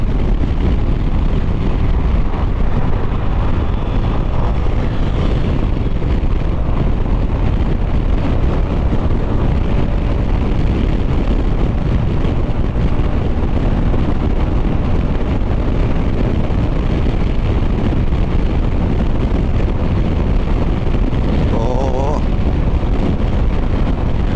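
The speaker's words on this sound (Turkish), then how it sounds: "omuzlar falan oldukça rüzgar alıyor dostlar" Heavy wind buffeting a helmet microphone while riding a KYMCO DTX 360 maxi scooter off-road, a loud continuous low roar throughout with engine drone blended in and a voice talking intermittently beneath it.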